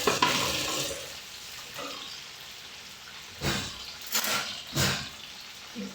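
Vegetables fry in a pan with a steady hiss, broken by several louder bursts of sizzling and stirring, close and without talk.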